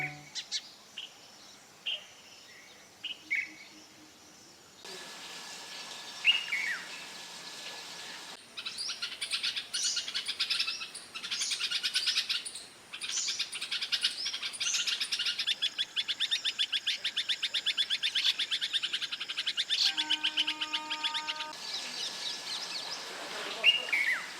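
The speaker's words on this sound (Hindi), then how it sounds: "रेड वेंटेड बुलबुल की आवाज काफी मधुर होती है। आइए अब हम इसकी आवाज सुनते हैं।" A red-vented bulbul gives a series of bright, sweet calls and chirps, repeated in short phrases over a soft background with faint insect buzzing.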